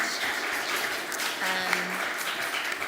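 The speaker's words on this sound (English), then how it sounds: "A round of applause for our distinguished panel." Dense, steady applause from a COP28 climate conference audience for a panel fills the whole moment, with a brief faint voice or tone rising through it midway.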